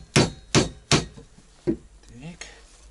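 Nails are hammered in: three sharp, evenly spaced blows, then a fourth, close and loud, followed by faint handling noises and a brief murmur of voice.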